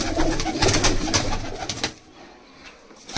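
Pigeons, including a prized tournament-winning bird, give soft, throaty coos in short repeated bursts close by for about two seconds, then fall quiet against faint background.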